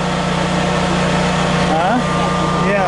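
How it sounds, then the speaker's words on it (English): A neighbor's generator runs outside at night during a power outage, a steady loud mechanical drone with constant hum throughout, while people talk nearby over it. "Oh, he got a generator."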